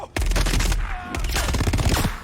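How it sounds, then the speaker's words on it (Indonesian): Gunfire in a film about a war between humans and AI robots, a dense burst of loud, sharp shots in two clusters with rumbling low end, close and dominating. "ia ditembak dari arah belakang"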